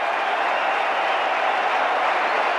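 A stadium crowd applauds at the 1996 Cricket World Cup final between Australia and Sri Lanka, a steady, dense roar of clapping that lasts throughout.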